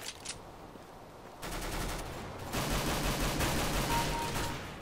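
Gunfire in Counter-Strike: Global Offensive: a quiet opening with a couple of faint cracks, then dense, loud automatic fire that builds and holds steady to the end.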